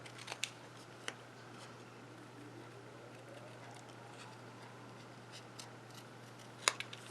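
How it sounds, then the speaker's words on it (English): Scissors snipping through paper card stock to cut out stamped shapes roughly, a few sharp close snips scattered over a quiet background hum. "I'm just kind of cutting out the shapes."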